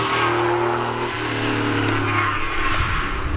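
Several classic cars climb the Arosa hill course in a steady, loud stream of engine drone, with one car accelerating and revving harder near the end.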